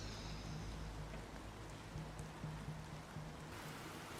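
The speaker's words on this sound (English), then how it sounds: "Oh, it's raining." Rain falls steadily in the video game Planet Crafter, a soft, even hiss that sits faint and unbroken in the background.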